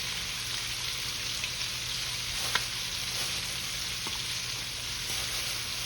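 Chicken feet frying in hot oil, a loud, dense, steady sizzle heard up close, with a few sharp clicks as they are stirred around the pan.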